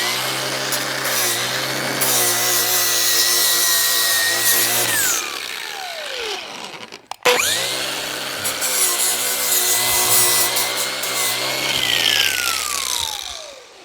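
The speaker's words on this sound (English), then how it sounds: "I actually decided I'm going to use my flap wheel to cut the strings." A flap wheel on a power tool cuts through the strings of a scrapped, beat-up generator, with two long, loud, steady whining grinds that each wind down at the end of the pass.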